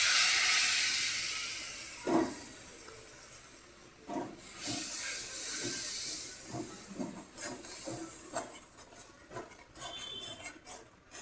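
A paste of yogurt, cashew and mace is poured into a hot pan for doi katla fish curry and sizzles with a loud hiss that slowly fades, broken by scattered clinks of a utensil against the pan.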